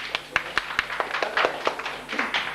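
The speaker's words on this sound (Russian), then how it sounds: "Еще раз аплодисменты" Brief scattered applause at a lieutenants' graduation ceremony of a Russian military academy, a modest number of hands clapping irregularly, fairly faint and sparse.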